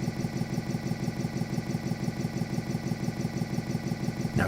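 A Harley-Davidson Big Twin engine idles in neutral while warming up, holding a steady, even lumpy pulse at close range that ends in a brief louder burst.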